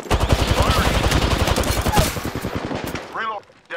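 Rapid automatic gunfire in the Apex Legends battle royale game, loud dense bursts of shots for about three seconds before cutting off, followed by a brief voice.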